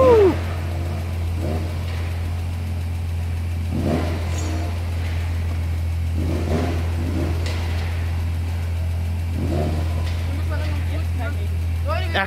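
An old Ferrari engine rumbles steadily on a street in Würzburg, with a few brief revs rising over it while people talk nearby throughout.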